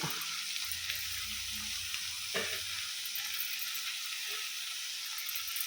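Amaranth greens sizzling in a spiced tempering in a small pan on low heat, a continuous close hiss with a low hum at first and a single soft knock partway through.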